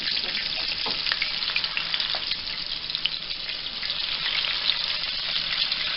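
Chicken breast chunks frying in hot grease for a spicy pickle chicken sandwich, a steady dense crackling sizzle that holds at an even loudness throughout, close up and with no talking.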